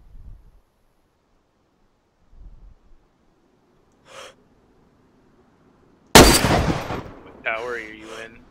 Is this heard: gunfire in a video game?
yes